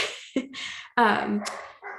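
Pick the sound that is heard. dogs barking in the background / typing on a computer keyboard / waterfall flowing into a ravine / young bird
dogs barking in the background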